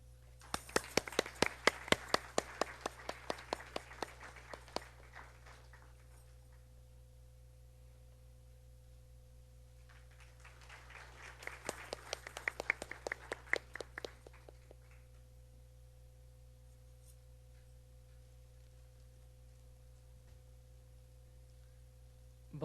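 Audience applause greets a performer taking the stage at a Bharatanatyam arangetram, with two separate bursts of clapping, one near the start and one about ten seconds later, each fading out over a steady low hum.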